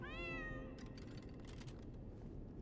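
A cat meows once in the video game Lies of P, a drawn-out, rising-then-falling cry lasting under a second, followed by a steady background of game ambience and low rumble.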